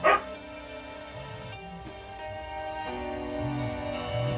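Dogs bark and yip in the background, a few short scattered woofs and a whimper set apart by pauses, moderately distant, with no talking over them.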